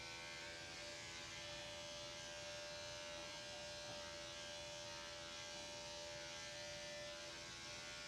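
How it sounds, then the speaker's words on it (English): Electric dog clippers with a 4 guard buzz steadily and quietly at close range while shaving the matted ears of an old dog during grooming, a constant motor hum with no talking. "so I'm going to shave the ears like this"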